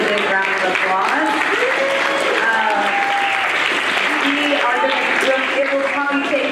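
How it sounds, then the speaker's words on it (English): Audience applause for teams at an academic games finals, a sustained dense roar of clapping with voices and cheers mixed in throughout, fairly loud and continuous. "Give yourselves a big round of applause."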